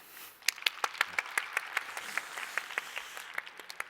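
Applause welcomes a speaker onto the stage at a forum, a modest crowd clapping with distinct, fairly regular claps standing out from a soft wash, somewhat distant.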